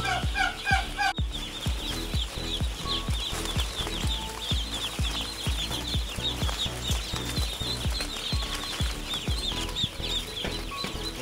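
A large flock of Itik Pinas breed ducks calls continuously, producing a dense, loud chorus of overlapping quacks with a steady rhythmic pulse throughout.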